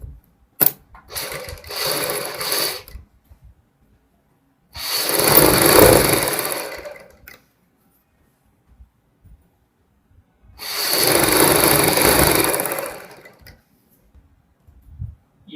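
A sewing machine runs in three separate bursts of about two seconds each, hemming the edge of a saree. Each burst is a steady mechanical whir, with quiet pauses in between and no talking.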